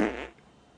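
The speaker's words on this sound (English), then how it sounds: "You're gonna make me fucking fart." A single short, loud fart bursts out at the very start and quickly fades into quiet.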